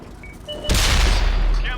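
A tank cannon fires in World of Tanks, a T28 HTC tier 7 tank destroyer, as one sudden loud boom with a long rumbling tail that fills the rest of the moment.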